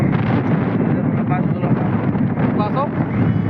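Strong wind roars steadily across the microphone, a constant low rumble, with faint voices briefly audible underneath.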